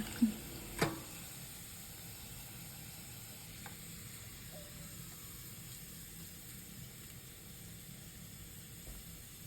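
Pieces of crispy pork belly frying in hot oil give a steady, low, even sizzle and hiss, with two brief clinks of a utensil at the start and no talking.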